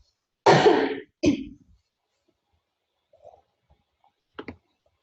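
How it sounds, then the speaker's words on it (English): A person at a computer clears their throat in a rough burst, follows with a shorter cough, then makes a few faint clicks and small noises in otherwise quiet surroundings. "about to cough"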